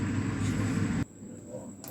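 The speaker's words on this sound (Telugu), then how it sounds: "మిల్క్ వేసిన తర్వాత మిక్సీ పట్టుకోవాలి" An electric mixer grinder blends torn bread pieces with milk in its jar, a loud dense whirring that runs steadily for about a second, then cuts off abruptly and leaves only a faint hum.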